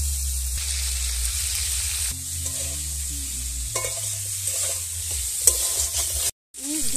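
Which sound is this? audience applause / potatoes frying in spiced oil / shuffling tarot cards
potatoes frying in spiced oil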